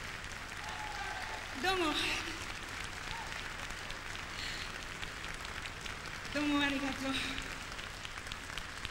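A concert audience in Yokohama applauds with sustained, even clapping like heavy rain, while someone speaks briefly over it twice.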